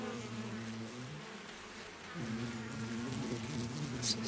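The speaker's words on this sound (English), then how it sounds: "Is that bugs? Bees? Bees?" Insects, apparently bees, buzz in a video game: a steady droning hum that swells louder after a brief dip, continuous and close with no talking.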